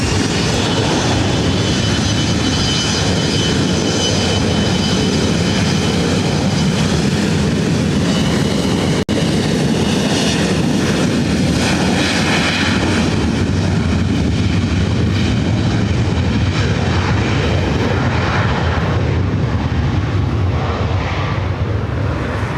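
A Boeing 787 Dreamliner takes off from runway 24 right at LAX, its engines producing a loud, sustained broadband roar that holds steady for over twenty seconds before slowly thinning out.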